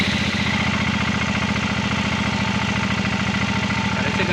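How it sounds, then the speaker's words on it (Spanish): An engine fires up and settles into a steady idle after its fuel tank has been refitted. The running is loud and close, with an even pulsing throb that carries on with no talk. "Ya pusimos el tanque, vamos a darle arranque a ver qué."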